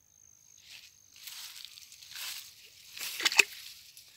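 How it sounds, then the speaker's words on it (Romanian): A frog leaps into a well-like pool with a small, close splash and brief sloshing of water, following quiet hissy rustling in an otherwise calm outdoor spot. "A sărit în apă, voiam să o prind."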